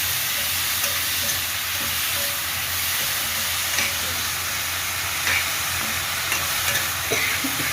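Grated gooseberry mixed with salt and turmeric is stirred in a pan, a continuous close sizzling hiss with faint scraping of the spoon throughout and no talking.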